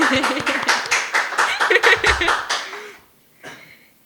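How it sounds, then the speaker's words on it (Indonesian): A podcast group clapping on cue, several hands in quick rhythmic claps mixed with chatter and light laughter, fading to near silence before a brief final burst. "Coba tepuk tangan dulu."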